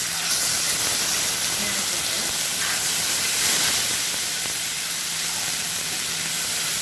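Onion paste frying and sizzling in a hot pan over high-to-medium heat for a Bengali boal fish curry, a steady loud hiss filling the whole stretch with faint background sounds.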